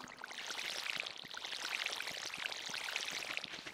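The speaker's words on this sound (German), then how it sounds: "früh morgens als allererstes immer die Pflanzen gießen mit einer Gießkanne" A watering can pours over crops in the farming game Stardew Valley, giving a steady, unbroken splash of running water that lasts a few seconds with no talking.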